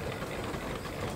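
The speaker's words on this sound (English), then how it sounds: "So this is an 80 horsepower case engine built in 1920." A 1920 Case 80 horsepower steam engine runs at a threshing show, a brief, steady low rumbling chug heard at close range without talk.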